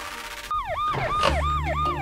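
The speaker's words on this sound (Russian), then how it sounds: "Вроде бы скорая едет." An ambulance siren wails in repeated rising and falling sweeps, loud and close, over a low rumble of traffic or engine noise, with no talking.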